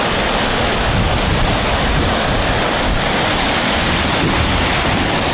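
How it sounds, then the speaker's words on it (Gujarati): Fast-flowing floodwater after heavy rain rushes in a loud, constant, broadband roar close to the microphone, with wind buffeting mixed in and no talk. "મિત્રો ફૂલ સ્પીડ છે પાણીની."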